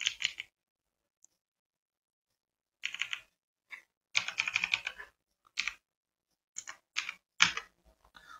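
A PAN card number being typed on a computer keyboard: quiet, close key clicks in short bursts and separate taps with silent gaps between them, no voice.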